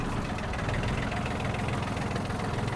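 A Yanmar US-31D mini tractor engine runs steadily nearby with a dense, even diesel rumble and chugging vibration, no pauses and no talk over it.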